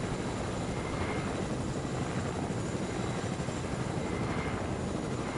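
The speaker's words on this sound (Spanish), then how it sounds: "Sí, coge con el helicóptero." Helicopter in a video game: a constant, loud rotor drone with a dense, steady engine roar throughout, close and unbroken.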